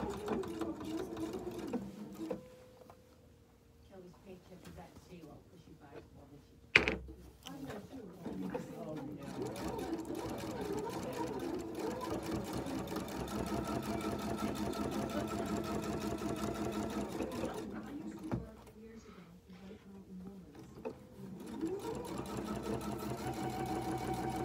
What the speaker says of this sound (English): now, I'm going to like stitch in my ditch